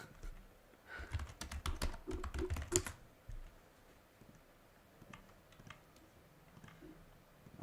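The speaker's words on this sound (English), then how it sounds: "I'm figuring out how to type in Hindi." Quick bursts of typing on a computer keyboard, a dense run of clicks in the first few seconds followed by sparse, faint keystrokes. The sound is quiet and close, in a still room with no talking.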